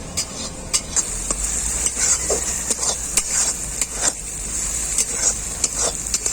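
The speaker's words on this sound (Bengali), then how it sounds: "মশলাটাকে কিন্তু খুব ভালো করে কষিয়ে নিতে হবে" Spice masala for ghugni sautéed in a pan, a soft background sizzle punctuated by regular sharp scrapes and clacks of a spatula stirring, close and rhythmic with no talk.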